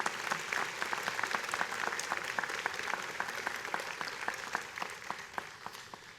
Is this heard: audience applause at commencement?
yes